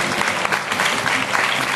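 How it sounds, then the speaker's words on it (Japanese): Quiz-show audience at a baseball event claps to vote for an answer, a brief, loud burst of crowd applause with uneven swells throughout. "答えだと思ったところで拍手をしてください。"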